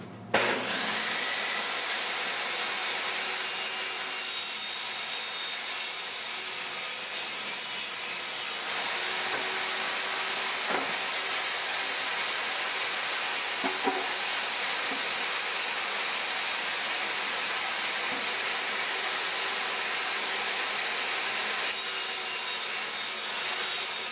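A saw cutting a cabinet board with a 1/8 inch blade gives a steady, loud, continuous whine and rasp held close for the whole stretch, with no talk over it.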